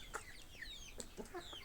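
Chickens kept at a campsite cluck softly and intermittently in short, faint bursts, with a few higher chirps over a quiet outdoor background.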